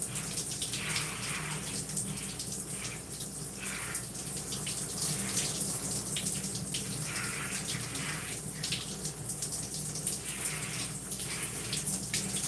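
Running water rinses shampoo out of hair in a steady close hiss, with irregular splashing and gurgling as hands work through the hair.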